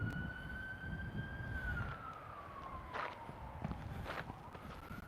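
An ambulance siren wails as the vehicle passes slowly, its tone gliding up and down over a steady traffic rumble from a nearby freeway, with footsteps and outdoor noise close by.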